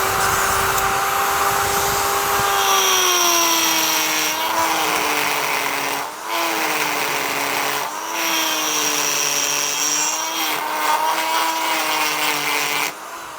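A Banggood carbide burr grinds metal with a rotary tool, a loud, high whining drone with strong tonal harmonics that dip and recover as the burr bites, with brief pauses in load through the run.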